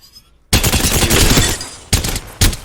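A Havoc energy rifle fires in Apex Legends with a turbocharger fitted, first a long rapid burst and then two shorter bursts, loud and close, with gaps of quiet between.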